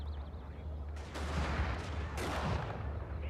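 Wooden cannons fire on a castle wall in a Shogun 2: Fall of the Samurai battle, two booming blasts about a second apart over a low rumbling background.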